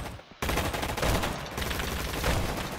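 Dense, rapid gunfire bursts from a gun in a Roblox shooting game fill the clip after a brief quiet start, sounding like an automatic weapon firing continuously and loudly.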